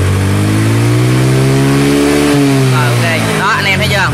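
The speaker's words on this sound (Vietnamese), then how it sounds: "Rồi nổ máy lên ga lớn hơn lần nữa" An Attila scooter engine held at high revs with the throttle opened wide, a loud steady droning whine that dips briefly then climbs again, close up and continuous.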